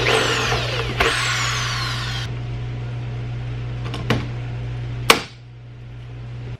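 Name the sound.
drilling holes and riveting aluminum ruler to box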